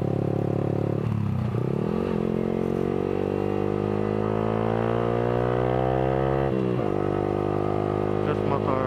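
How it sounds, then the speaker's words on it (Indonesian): A Yamaha R15 V3 150 cc sport motorcycle fitted with a loud Villan aftermarket exhaust revs and rises in pitch under acceleration, steady and close, with a brief drop near the middle. "Knalpotnya itu menurut gue berisik banget"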